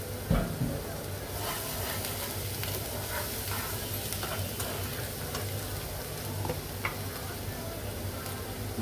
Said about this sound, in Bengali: এখন আমি ভালো করে ভেজে নিব।